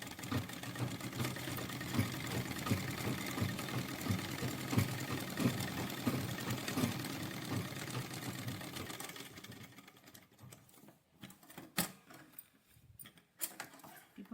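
A domestic sewing machine stitches a garment sleeve in a steady, continuous mechanical run for most of the stretch, then stops, leaving only sparse clicks and handling noises at the end.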